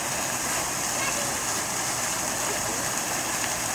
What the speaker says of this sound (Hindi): पार्क के बीच में है एक बहुत ही सुंदर आर्ट एक पानी का फाउंटेन